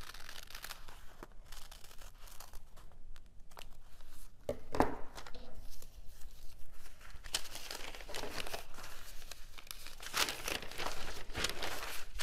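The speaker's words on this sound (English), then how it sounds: "use your scissors to trim away the extra paper" Scissors cut and trim a paper pattern for a flat iron travel case, giving a continuous close crinkling and snipping of paper with occasional sharper cuts.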